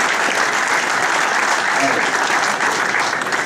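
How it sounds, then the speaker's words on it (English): Steady applause from a crowd at a Carrick Rangers 75th anniversary gala night, dense continuous clapping at full volume for a few seconds. "Give another round of applause"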